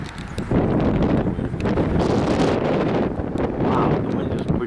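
Strong wind roars during a snow storm at Havasu Landing Resort, a loud continuous buffeting that hits the microphone and whips trees for the whole stretch, with gusts rising and falling.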